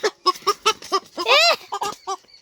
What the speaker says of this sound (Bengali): তাই ও দেশি মুরগি নিয়ে এসেছে।